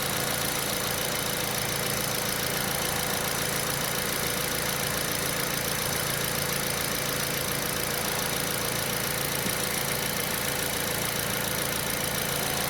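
A Kia Picanto engine idling steadily after its alternator was replaced, an even, continuous mechanical hum with a low rumble, close by and without voices.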